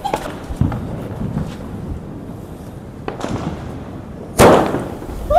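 Diwali firecrackers set off by a group of young men, with a sharp, loud blast near the end standing out after several duller thumps and pops spread across the clip; a voice is briefly heard.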